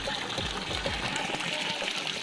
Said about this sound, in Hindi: ये देखिए इसकी यहां से ये पानी आ रही है